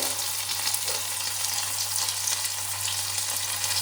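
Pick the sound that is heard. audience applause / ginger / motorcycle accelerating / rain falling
ginger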